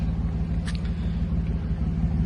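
A BMW M4 Competition idles with a steady, deep rumble close by, its low throb continuous and even from start to finish with no clear cutoff.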